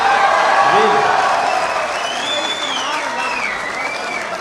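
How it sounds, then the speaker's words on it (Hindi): An audience at an Urdu poetry recital applauds in a dense, steady wash of clapping that slowly fades, with a voice speaking over it. "आपके लिए बहुत सी तालियां यार"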